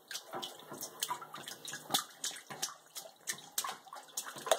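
A baby splashes in bath water, sending out repeated light, close sloshes and drips in an uneven rhythm, with no talking heard.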